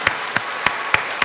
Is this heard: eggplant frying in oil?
no